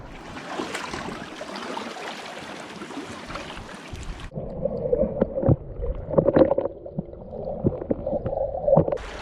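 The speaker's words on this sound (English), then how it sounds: "I don't like the sound of the waves" Water laps and gurgles around a small boat, irregular sloshing and splashes close by, louder in the second half.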